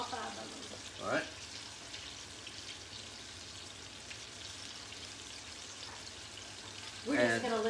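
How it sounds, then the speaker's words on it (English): Hamburger steaks sizzle in a frying pan with a soft, steady crackle and hiss, broken by a couple of louder spattering bursts near the start and end. "We're just going to listen to the sizzle for a minute."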